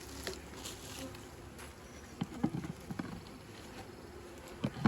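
Honeybees at a hive being split, a steady low buzzing drone throughout, with a few brief louder bumps and knocks near the recording, no talk.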